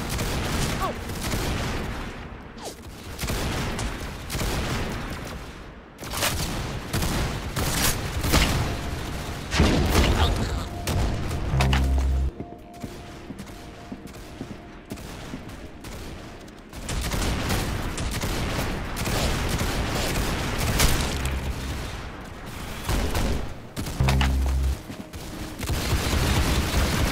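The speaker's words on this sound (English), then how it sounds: "very good shooting." Relentless automatic gunfire and explosive booms fill a Roblox Arsenal match, loud rapid volleys with brief lulls between clusters of shots and a few heavy low thumps.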